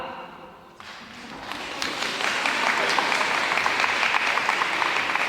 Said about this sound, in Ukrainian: Дивіться, у нас чотири особи отримали оплески.